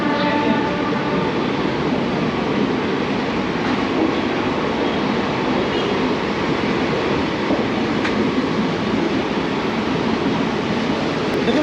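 The Secunderabad–Rajkot superfast express pulls out of Begumpet station with a loud, constant rumble and rattle of wheels and carriages that fills the whole stretch without letting up.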